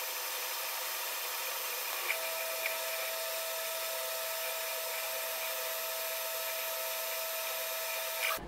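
An xTool S1 laser engraver works on acrylic, giving off a steady airy hiss and fan hum with a faint constant whine, a couple of small ticks, and no voices.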